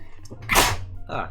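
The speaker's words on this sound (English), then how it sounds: "that was a sneeze" A single sharp, close sneeze bursts out, followed by a brief breathy vocal sound.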